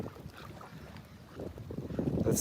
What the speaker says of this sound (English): Hey, and we got a party boat passing by.